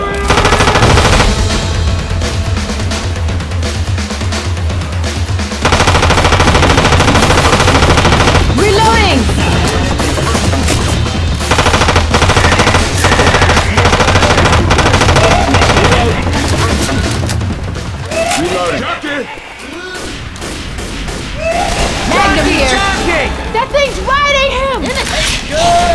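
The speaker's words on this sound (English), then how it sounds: "grab me the assault rifle" Assault rifle gunfire in the co-op zombie shooter Left 4 Dead 2, loud sustained automatic bursts and rapid shots layered with game effects, with players talking over the shooting.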